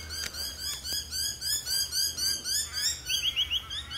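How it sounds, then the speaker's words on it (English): Birds chirp at an abandoned farm house, a rapid run of high, repeated tweets in quick rhythmic bursts, clear and fairly close over quiet outdoor ambience. "Birds."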